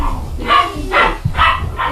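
A small puppy barks in short bursts, three or four yips spaced about half a second apart, close and fairly loud, with no talk over them.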